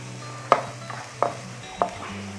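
Chopped onion with a pinch of salt cooks in a pan, giving a soft low sauté hiss with three sharp spoon or spatula clacks against the pan, spaced about a second apart, no voices.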